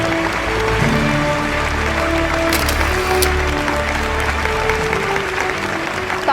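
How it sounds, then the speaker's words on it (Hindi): Audience applause at the Muslim Award for Excellence 2022 ceremony, welcoming the honoured mother Fatima Bohra; a steady, dense wash of clapping from a large crowd fills the whole stretch at an even level. "जोरदार तालियों के साथ स्वागत करें फातिमा बोहरा का"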